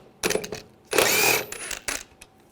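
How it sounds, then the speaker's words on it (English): Power tool bursts on a 2007-2013 BMW 328i as an E14 socket backs out a bolt on a bar near the front strut, with several short whirring runs and one longer spin, close and fairly loud. "Use a E14 socket. Take this bolt out."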